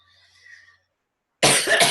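A single loud, harsh cough bursts in after a quiet stretch with faint background hiss, lasting about half a second and close to the listener.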